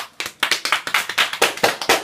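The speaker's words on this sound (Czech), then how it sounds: "Přivítej to mohutným potleskem." A small crowd applauds to welcome the defender and team captain after a local Czech football match, with a short burst of close, rapid, uneven hand claps that start abruptly and keep going.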